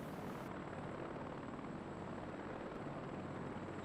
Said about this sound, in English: I'm keeping the doors on my chopper tonight.